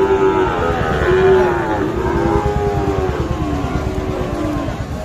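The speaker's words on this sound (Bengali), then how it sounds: "এর পাশে আরো একটা আমরা বেশ সুন্দর সাইজের শাহিওয়াল ষাঁড় বাছুর দেখছি" A Sahiwal bull calf at a cattle market lets out drawn-out moos, repeated and fairly close, over a continuous low rumble of market noise.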